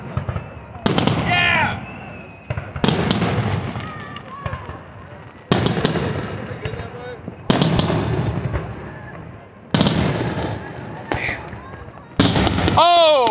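Fourth of July fireworks go off in about six loud, widely spaced booms, some trailed by crackles and whistles, while people talk and exclaim between bursts.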